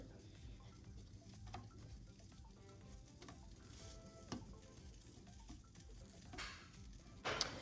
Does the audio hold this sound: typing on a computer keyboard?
no